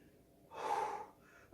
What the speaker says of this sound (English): I'm breathing hard because I'm in pain right now.